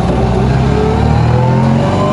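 An MGB sports car engine revving loud and close, a steady, dense mid-range roar that holds throughout with no pauses.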